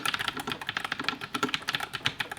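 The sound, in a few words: typing on NuFi Air 96 keyboard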